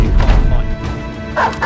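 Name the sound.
dog barking in video game Battle Brothers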